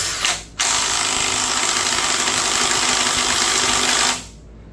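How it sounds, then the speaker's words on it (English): Power tool whirring steadily for about three and a half seconds after a brief short burst, working on a HEMI crankshaft; loud and close, with no talk. "So you're going to use a little impact driver."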